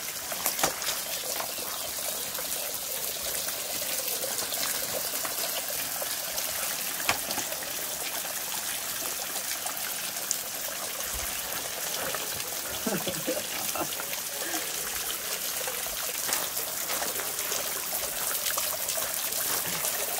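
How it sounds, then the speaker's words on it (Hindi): Natural waterfall in a forest with water falling from high up, heard as a steady, even rush and trickle of water running continuously at moderate level throughout. "ये एक कुदरती झरना है और आप देख सकते हो बहुत ऊपर से इस पर पानी आ रहा है,"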